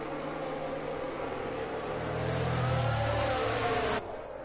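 Race car engines in the F1 22 video game at the Imola GP rev and accelerate, holding a steady mid-level drone that swells louder toward the end before cutting down, with no talk.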